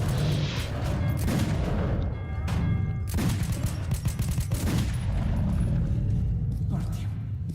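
Gunfire in the Metro 2033 Redux video game, a steady dense barrage of shots and impacts over rumbling game noise throughout, loud and close.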